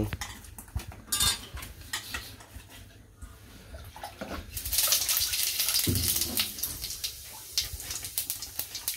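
Fish being cut in a home kitchen, with close clinks and scrapes of metal and dishes, brief knocks, and a stretch of rushing, watery clatter in the middle.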